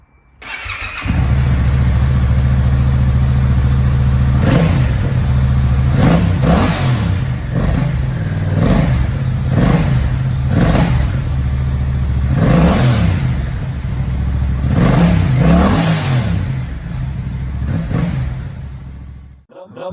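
Yamaha TDM 900 motorcycle engine, high mileage at about 31,000 miles, idling loud and close with a steady low rumble and a series of sharp revs blipped at irregular intervals throughout.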